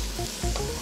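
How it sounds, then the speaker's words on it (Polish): Carrots fry with onion, meat and herbs in a pan for a German eintopf, a close, steady sizzle with a brief stir sound partway through. "Wszystko też delikatnie przesmażamy."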